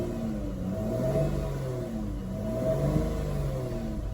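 A BF2 Ford Falcon XR6 idles after long storage on old fuel, a steady low close engine hum with slight rising and falling swells and no talk.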